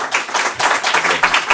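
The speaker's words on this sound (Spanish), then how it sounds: "Yo creo que le brindamos un aplauso." Lecture audience clapping after a talk on ethics in surgical practice: a brief patter of hands at moderate volume, with faint voice traces mixed in.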